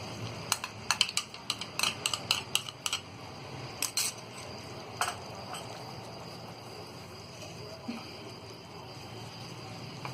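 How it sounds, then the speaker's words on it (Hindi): Yogurt being stirred into mutton kadai in a pot, with a quick run of close, sharp clicks and taps of a spoon against the metal pot that thins out to occasional knocks over a soft background hiss. "दही को हम अच्छी तरह मिक्स कर देंगे।"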